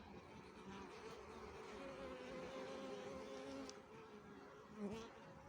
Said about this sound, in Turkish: Arılarımızın durumunu görüyorsunuz. Maşallah maşallah polen getiriyorlar.